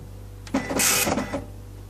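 An Apple IIc printer runs one brief mechanical burst of printing, a buzzing chatter lasting under a second over a low steady hum.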